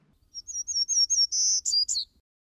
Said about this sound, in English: Townsend's warblers sound like they're winning a game of hide and seek.